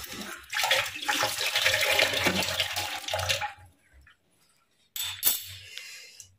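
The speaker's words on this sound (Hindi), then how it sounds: "चम्मच धो देते हैं।" Tap water runs over a spoon being washed, a steady splashing rush for about three seconds that cuts off into near silence, followed by a brief clink and a short second burst of water.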